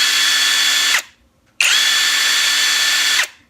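Seyvum 20V cordless brushless impact wrench spinning at maximum speed in two steady bursts, about one second and then nearly two seconds long, with a short silent gap between them. It gives a smooth, even high whine with no talking.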